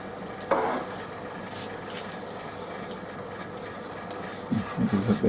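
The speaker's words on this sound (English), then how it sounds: "I'll give a bit of a scrape actually first." A hand scraper rasps across a wooden surface being prepared for sanding and sealing, a steady close scratching texture with a sharper stroke near the start and a few louder scrapes at the end.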